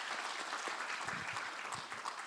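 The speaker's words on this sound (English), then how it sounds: "A round of applause for our VC" Audience at a university international health conference applauds the vice-chancellor with steady, dense clapping that stays even throughout, with no voices on top.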